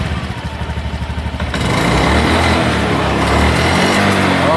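Honda Beat scooter engine with a sticky, sluggish throttle, running with a pulsing idle that turns into a steady, louder, rough revving drone close by, with no talk.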